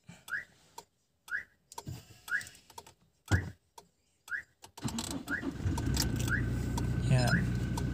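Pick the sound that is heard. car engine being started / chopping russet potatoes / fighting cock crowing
car engine being started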